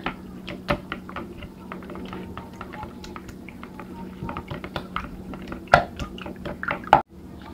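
A raw egg beaten briefly in a bowl for banana bread: a quick run of light, irregular taps and clicks from the utensil against the bowl, close and fairly faint, ending in a couple of sharper knocks.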